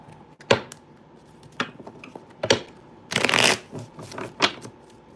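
A deck of tarot cards being shuffled, with several sharp riffles and a longer, denser burst of card flutter partway through, close and fairly loud against a quiet room.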